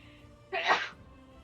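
A single sharp sneeze bursts out mid-session at a tabletop role-playing game, brief and fairly close, rising out of quiet room tone and fading within half a second.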